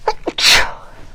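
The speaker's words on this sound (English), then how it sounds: "So excuse me, I know I gotta sneeze." A single loud, close sneeze, preceded by two short sharp inhaling catches, then a brief quiet tail with nothing else heard.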